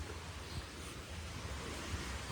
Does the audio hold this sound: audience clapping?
no